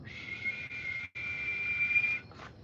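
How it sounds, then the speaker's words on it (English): A sustained high-pitched whistle holds steady with one brief break midway, then fades out, over a low murmur of background noise. "Do you guys hear that high pitched sound?"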